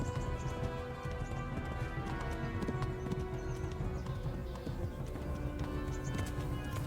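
Rapid hoofbeats of a galloping horse in the video game Kingdom Come: Deliverance, during the Talmberg horse race, pound steadily throughout, close and continuous, over a layered musical background.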